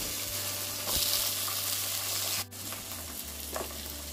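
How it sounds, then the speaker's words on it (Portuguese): Onions, tomato and peppers frying in a pan, a steady close sizzle with a few stirring knocks and a brief dip in the middle. "depois que der uma fritada boa na cebola, aí que eu venho com a tomate, depois os pimentões"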